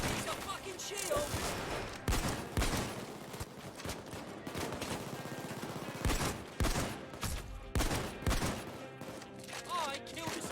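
Rapid gunfire rings out in the heist shooter Payday 2 on a Crackdown difficulty mod. Dense bursts and single sharp shots come in irregular clusters, with some voices mixed in.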